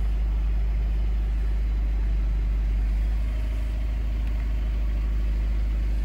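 A VW Golf MK7 hatchback idles steadily after being started, a constant low engine drone and hum with a faint mechanical rattle, close by and unbroken, with no voices.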